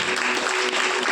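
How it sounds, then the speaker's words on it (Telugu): A church audience claps at a pastor's gathering in a brief burst of dense applause that stays even for just over a second. "కొట్టు చప్పట్లు ఒకసారి"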